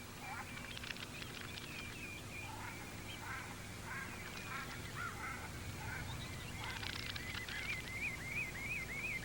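A shelduck drake on English coastal dunes gives repeated nasal quacking calls in loose bursts, fairly close, over a low steady wind-like background.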